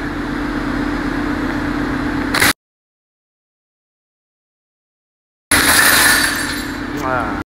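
Half-inch tempered glass shattered by a slingshot shot: a loud, noisy burst of breaking glass erupts after a stretch of dead silence, preceded by steady background noise.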